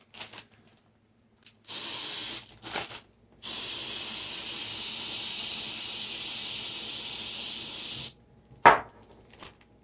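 Coconut oil cooking spray is sprayed over a layer of onions in several hissing bursts: two short sprays, then a long steady one, followed by a few faint handling clicks and taps.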